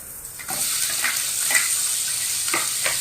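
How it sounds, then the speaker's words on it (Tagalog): Meat hits a hot wok and sizzles, the hiss jumping up as it goes in and holding steady and close, with a few light stirring clicks and no talking. "medyo mainit na ang ating kawali at ilalagay na natin ang ating karne"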